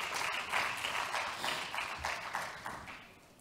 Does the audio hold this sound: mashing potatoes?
no